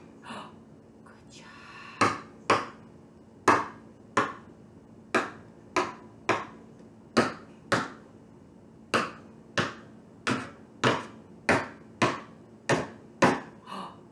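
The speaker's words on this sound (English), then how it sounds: "We hammered them all in." A toy hammer taps golf tees down into a box, giving a steady series of about sixteen sharp, close, evenly spaced knocks with short gaps between them and no talking.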